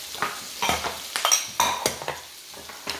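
Garlic shrimp with soy sauce cooks in a pan: a soft sizzle broken by repeated sharp spatula scrapes and metallic clinks at an uneven pace, nearby and without talk.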